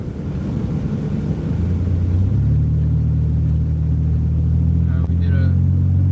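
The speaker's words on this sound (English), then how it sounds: "This van's harder to drift though because once it goes, it goes." A van driven on a snowy road gives a loud, steady low engine drone that climbs in pitch partway through and holds high, with a brief sharp interruption near the end.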